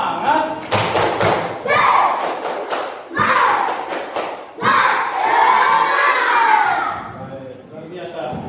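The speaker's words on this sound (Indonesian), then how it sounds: "Tepuk semangat." A classroom of pupils performs a rhythmic spirit clap chant, loud bursts of clapping and shouted chanting in quick patterns led by the teacher, with voices rising and falling across several short phrases.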